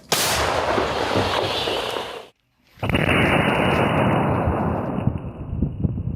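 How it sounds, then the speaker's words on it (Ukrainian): A powerful artillery gun blast roars and rumbles, cuts out briefly, then a second heavy boom follows with a long rolling echo; combat firing near Chasiv Yar, Ukraine. "Далі ж усе чітко в ціль. Вогонь! Постріл!"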